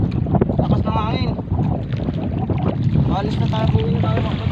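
Strong wind buffets a small fishing boat at sea, roaring and gusting loudly and continuously against the microphone, with voices talking faintly underneath the blustery noise.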